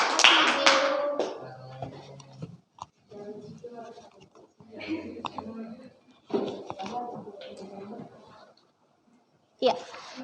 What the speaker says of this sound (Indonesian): Beri tepuk tangan untuk kelompok Marah Rusli.